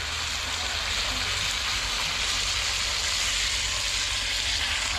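Water poured into meat cooking in a pan sets off a steady, loud broadband sizzle that holds evenly throughout, with no talking.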